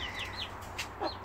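Backyard chickens cluck and chirp softly in a few short calls over a steady outdoor hum, fairly faint and without any talk.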